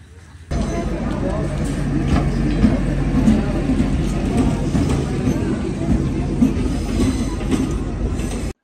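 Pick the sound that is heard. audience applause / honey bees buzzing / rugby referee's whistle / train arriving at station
train arriving at station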